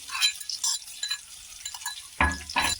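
Bay leaf, cumin and cinnamon sautéing in a pan, light sizzling with a few distinct scrapes and clinks of a spoon stirring against the metal, close and fairly quiet.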